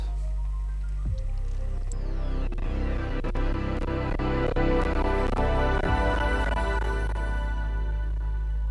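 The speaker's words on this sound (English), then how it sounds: "you'll be presented with the awesome Windows 98 logon sound." The Windows 98 logon sound: a warm, layered synth chime swells and rings out, bright tones stacking over a steady low drone before slowly fading, loud and alone.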